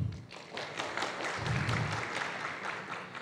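Conference attendees at a HITCON 2020 finance and cybersecurity panel applaud a guest's introduction, a full, sustained round of clapping with a few heavier thumps, steady from start to finish.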